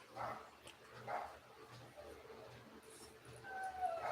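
Several pet dogs bark in short, faint, distant bursts spread across a quiet indoor room, repeating irregularly at low volume.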